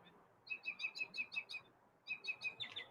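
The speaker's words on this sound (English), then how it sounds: "have you ever thought about recording Chirpy and sound blasting it back to him?" A pet bird chirps in quick, bright repeated bursts, a run of about eight notes, a brief pause, then another rapid series, close and clear against a quiet background.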